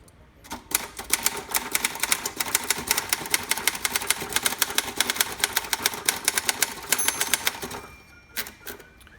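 Rapid, steady clacking of 1950 Royal KMG manual typewriter keys striking close by, with its heavy carriage, a brief pause and a few final strikes near the end.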